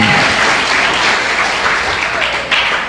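A church congregation claps loudly and steadily during a sermon, a dense wash of applause that carries on without pause.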